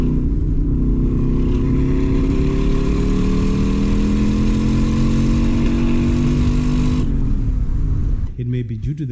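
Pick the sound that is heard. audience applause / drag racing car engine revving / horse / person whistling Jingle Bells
drag racing car engine revving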